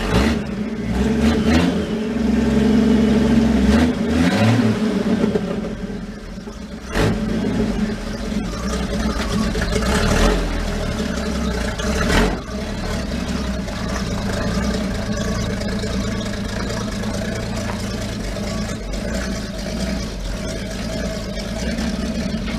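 Engine of a smashed-up 1968 Camaro-based vehicle being driven, a continuous mid-pitched rumble that rises and falls with revving, loud and close, with rattling thumps along the way.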